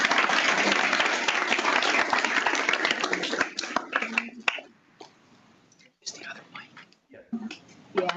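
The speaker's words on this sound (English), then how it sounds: "So another round of applause for Sunda," Audience applause at a scientific symposium session, dense and loud for the first four seconds, then thinning to scattered claps and a few voices and handling noises as it fades.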